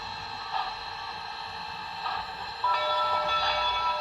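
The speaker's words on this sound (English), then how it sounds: "You get the bell." A Zimo sound decoder in an LGB Forney model locomotive rings its bell in a steady tone over a train-running background, moderately loud and with no talk.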